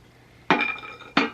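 Two sharp glassy clinks, about two-thirds of a second apart, sound close up as pieces of an antique butter dish are handled and set together, with a short ringing tail after each.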